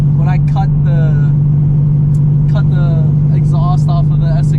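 An 800HP Shelby GT350 engine roars with a loud, steady low drone from inside the car, while people talk over it.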